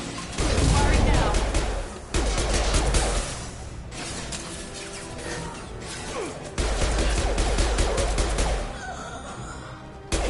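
Heavy bursts of rapid gunfire from a Mass Effect 2 firefight, loud and dense in several long volleys broken by brief pauses, with crashes and impacts mixed in.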